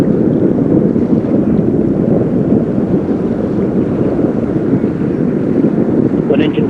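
Orion rocket first-stage engines roar steadily during launch, a loud dense rumble like wind buffeting, with no gaps across the whole stretch.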